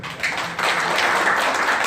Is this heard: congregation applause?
yes